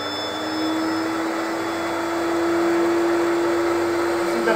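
A Fuji Q4 Pro vacuum runs continuously at close range, a steady airy roar with a sustained motor whine that holds level throughout, no voices over it.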